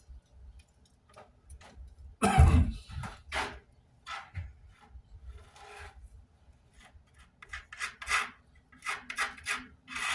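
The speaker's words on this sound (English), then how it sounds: "I think this is the way to do it with glue and a trowel." Glue being spread with a trowel over a surface in a fiberglass-style project, irregular scraping and rubbing strokes, close and quiet, with one louder scrape near the start.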